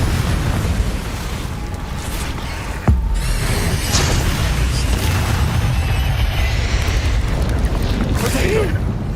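Confringo spell blast in Hogwarts Legacy: a loud game explosion with a sharp crack and booming burst, set amid ongoing combat rumble with other bursts and magical effects.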